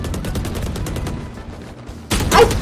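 Rapid gunfire rattles in the tactical shooter Valorant, a dense burst of repeated shots up close, followed by a louder, noisier surge near the end.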